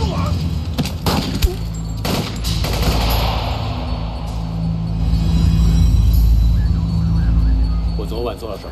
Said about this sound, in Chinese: 左东在文慧街听到枪声